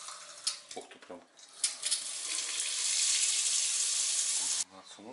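Hot water gushes steadily from a Finnish faucet as a broadband hiss for several seconds, with a few brief clatters before it starts and an abrupt stop near the end.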